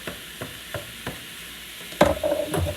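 Ground meat browning in a pan for shepherd's pie: a few soft spoon scrapes and stirs, then a louder burst of frying and sizzle toward the end, close and with no talk.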